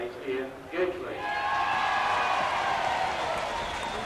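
A stadium crowd at a rugby league match between York and Keighley cheers and applauds after a try by Keighley's Ian Gately, a broad steady wash of clapping under a commentator's voice.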